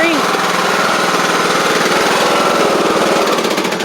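A lawn tractor engine cranked over by the starter on an AGM lawn and garden battery, a loud, close, fast and even mechanical chugging that runs without a break.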